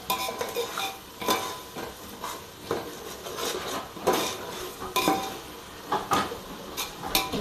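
Chicken biryani ingredients are sautéed in a pan and stirred with a utensil, giving repeated close scraping and clinking strokes in an uneven rhythm over a soft, constant sizzle.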